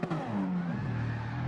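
A Toyota GR Supra race car launches from a standing start in Gran Turismo, engine note sweeping down then settling into a sustained low drone, loud and close, with no voices.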